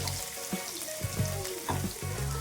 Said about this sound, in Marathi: तेल गरम झाले यामध्ये आपण आता टेस्टलेलं लसूण टाकूया आणि एक मिरची आपण यामध्ये टेसून बारीक केली आहे